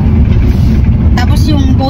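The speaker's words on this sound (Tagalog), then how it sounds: "yung ganitong takbo ng sasakyan na naririnig mo yung engine" A car engine hums with a steady low rumble from inside the cabin while driving, with a faint voice near the end.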